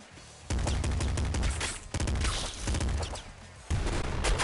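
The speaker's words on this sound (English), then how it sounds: "You better believe I'm going with the grenade launcher." Grenade launcher fire in the video game Nuclear Throne, heard as loud, dense bursts of explosive blasts and gunfire in several clusters, close and without talk.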